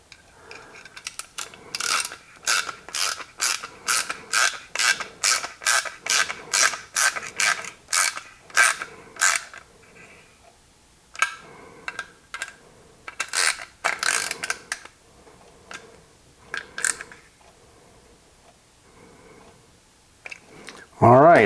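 Screws being tightened on a Winchester Model 37A 20 gauge single-shot shotgun during forend spacer replacement, a long run of quick, evenly spaced ratcheting clicks, close and crisp, followed by a few shorter bursts of clicking with pauses between.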